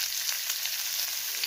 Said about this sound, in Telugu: అదే మూకుళ్ళలో కొంచెం ఇంకా నూనె వేసుకొని ఉల్లిపాయ ముక్కలు వేసేయాలి.